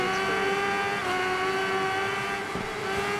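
A Kawasaki H2 motorcycle engine revs high and holds a strained, steady whine with a faint rise in pitch, loud and fairly close over wind noise, with no voices.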